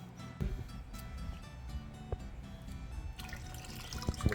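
Animal rennet being stirred into a small cup of non-chlorinated water for making queso fresco, with soft liquid swishes, a few sharp clinks and light drips, close by and fairly quiet, no talking.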